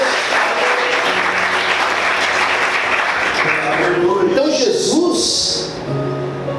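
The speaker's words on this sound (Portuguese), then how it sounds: "Aplauda o Senhor mais forte." Loud, dense applause from a large church congregation, sustained throughout and easing slightly near the end, with voices mixed in.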